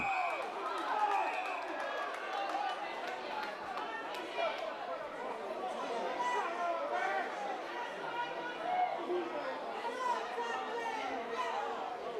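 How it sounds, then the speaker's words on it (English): Spectators at a local football match murmur and call out together in a broad, moderately distant crowd reaction after a hard tackle, with scattered voices rising throughout. "The crowd didn't like that."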